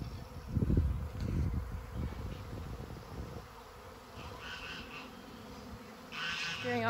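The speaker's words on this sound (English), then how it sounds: "gearing up to go and catch a swarm of bees" A swarm of bees flies around a tree, a continuous buzzing hum with louder passes as insects come near, set against soft outdoor background noise.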